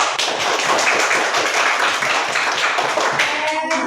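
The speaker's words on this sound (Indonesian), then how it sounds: "kita memberikan tepuk tangan buat kelompok yang 4" A classroom group claps for a student group, close and fairly loud with a slightly uneven rhythm, ending in a brief voice as the clapping dies away.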